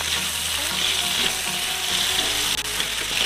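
Garlic sizzling and frying in a pan, a steady close-up crackle with stirring scrapes throughout and no talking.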